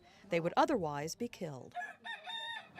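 A rooster recovering from cockfighting injuries crows loudly and close by, one full cock-a-doodle-doo followed by softer clucking, with someone speaking over the end.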